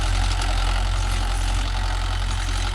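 A Mahindra tractor engine idles close by, a loud steady low rumble with constant mechanical clatter and no talking.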